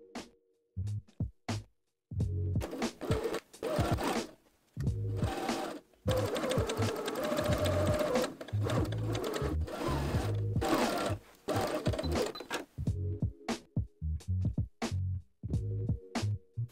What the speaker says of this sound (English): And then sew your bias binding along the armhole.